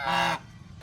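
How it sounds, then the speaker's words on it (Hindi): One big duck gives a single loud, nasal honk at close range that stops abruptly, followed by quiet outdoor ambience and a faint short call near the end. "ये देखो कितनी बड़ी बड़ी बत्तख है।"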